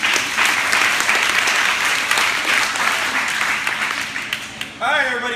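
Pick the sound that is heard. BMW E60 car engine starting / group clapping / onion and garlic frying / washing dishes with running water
group clapping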